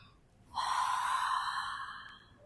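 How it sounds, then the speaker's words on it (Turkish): A single deep breath pushed out through the mouth during a yoga session, a breathy exhale that rises at about half a second and holds steady before fading, close and clear with no talking. "derin bir nefes aldın ve ağzından boşalt nefesi."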